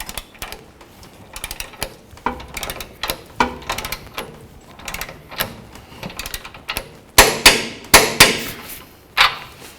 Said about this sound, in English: We're going to torque these down to 100 foot-pounds